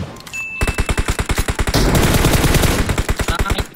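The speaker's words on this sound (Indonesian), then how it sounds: "Lu tembak musuhnya, jangan lu liatin doang." Automatic gunfire in the PUBG video game, a loud, close rapid-fire burst of evenly spaced shots running almost continuously, with a brief reload pause near the start.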